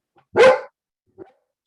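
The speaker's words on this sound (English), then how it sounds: "That's my dog." A dog gives one sharp, close bark followed by a softer short yip a moment later, with silence around it.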